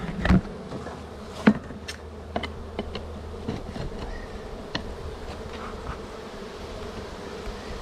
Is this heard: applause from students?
no